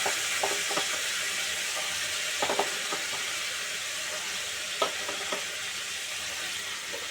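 Masala and chickpeas fry with a little water for a mochar ghonto, a banana flower curry, making a steady wet sizzle punctuated by irregular clinks and scrapes of a spoon stirring in the pan.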